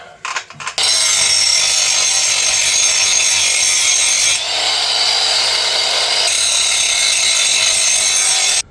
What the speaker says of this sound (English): I'm going to have to grind off a proportion of this great brake pad to be able to use it with the adapter.